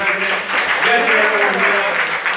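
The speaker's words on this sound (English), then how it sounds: "Let's give another round of applause for our annual president." Crowd at a reparations event in Philadelphia applauds the president, steady clapping mixed with cheering voices and some talk layered over it, loud and close throughout.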